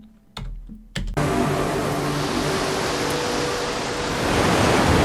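Ocean waves on the soundtrack of a The Last of Us Part II edit surge in after two short hits, becoming a loud, steady wash of surf that swells slightly toward the end.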